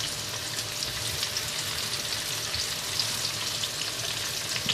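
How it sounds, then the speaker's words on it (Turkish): Steady, dense sizzling of vegetables, including peppers, frying in hot oil, continuous and close, with occasional soft stirring sounds. "Arada karıştırarak bütün sebzelerimin kızarmasını sağlıyorum."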